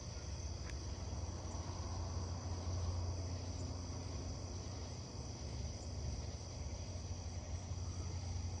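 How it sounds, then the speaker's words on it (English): Katydids call at night in a steady, dense insect chorus that holds for the whole stretch, fairly faint with no voices over it. "There's the katydids."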